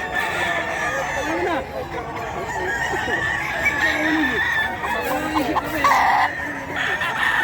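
Sweater gamefowl roosters crow repeatedly at the Bocaue pet market, several calls overlapping amid clucking and a busy crowd murmur with voices throughout.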